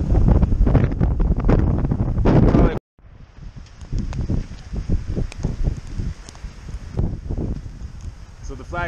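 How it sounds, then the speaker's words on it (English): Gusty wind from a tropical storm buffets the microphone in heavy roaring blasts, easing briefly before building again, with someone talking over the rush of air. "Flag's whipping. That's a really lightweight flag, so don't let it fool you, but it is getting pretty windy out here."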